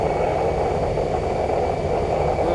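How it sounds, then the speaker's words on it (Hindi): A fighter jet in a flight simulator game gives a steady, loud engine roar and rush of air that holds constant with no talk over it. "फाइटर जेट है उधर"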